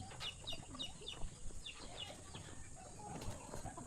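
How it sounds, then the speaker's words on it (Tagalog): Chickens cluck near Sampaloc Lake in San Pablo, Laguna, faint and somewhat distant, with a few quick bird-like chirps and soft flapping over outdoor background noise. "Ay, manok pala."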